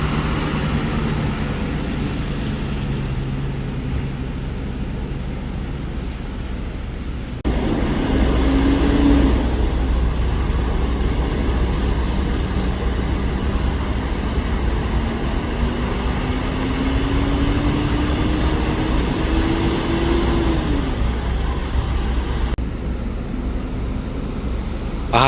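A Madu Gizmo sleeper bus arrives at Sumenep bus terminal with a loud, close engine rumble and rising and falling engine tones over several seconds, with no talking.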